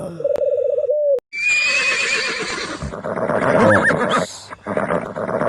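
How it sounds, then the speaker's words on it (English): A horse neighs in a loud, shaky whinny that rises and falls over several seconds, close by, preceded by a short tonal call from another animal. "horse"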